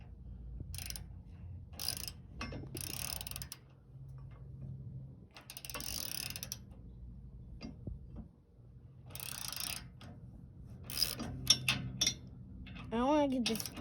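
A ratchet tightens the bolts on a Tyger brush guard being fitted to a 2020 Toyota Tundra. It makes several separate bursts of quick clicking with pauses between them, while voices talk in the background.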